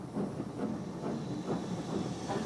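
A Black 5 steam locomotive reverses under overhead electric wires, giving a soft, continuous hiss of steam with faint pulsing chuffs and a low rumble, heard at moderate distance.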